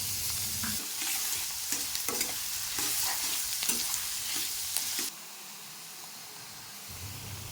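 Curry leaves fry in hot oil with a loud, steady sizzle and crackle, broken by stirring clatter for about five seconds before the frying settles into a quieter, even hiss.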